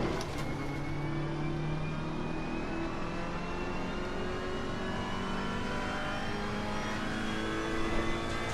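A race car engine in Assetto Corsa Competizione at Brands Hatch, holding a steady high whine that climbs slowly as the car pulls through the gears, loud and close with faint tyre and road noise.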